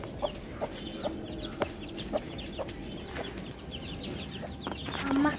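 A mother hen rests with her chicks, giving a series of short, evenly spaced clucks with faint chick peeps over quiet background noise.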